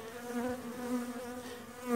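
Honey bees from a weak colony drone steadily in an opened hive on a rainy day, a close, continuous hum that swells slightly near the end.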